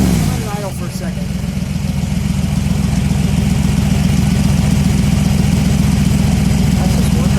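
Close, loud idle of a 1965 Shelby Mustang GT350 advanced prototype, a steady lumpy rumble from the exhaust with a brief blip near the start, and a voice speaking over it.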